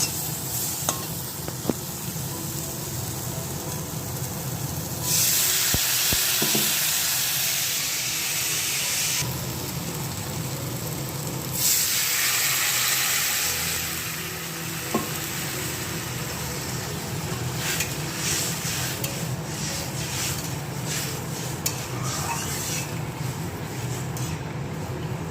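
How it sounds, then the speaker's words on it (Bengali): Spiced food with salt, turmeric, cumin and coriander sizzles in a pan, with bursts of louder frying hiss as it is stirred and turned, and occasional scraping and clinks of a utensil against the pan. "এখন একটু কষিয়ে নেব।"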